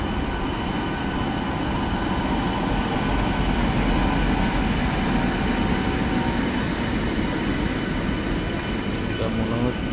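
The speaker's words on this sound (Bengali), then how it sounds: "এটা মনে হচ্ছে উত্তর না বালুরঘাট এক্সপ্রেস, শিয়ালদা বালুরঘাট এক্সপ্রেস হচ্ছে শিয়ালদাতে।" Sealdah–Balurghat Express passing Dum Dum station, a continuous loud rumble of rail wagons and wheels heard close by from a neighbouring local train, steady throughout with faint voices in the background.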